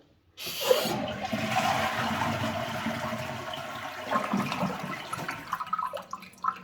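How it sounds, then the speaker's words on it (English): A toilet flushes with a sudden rush of water that swirls and drains steadily, tapering off into trickling near the end. "I'll just flush the toilet to get rid of most of the water."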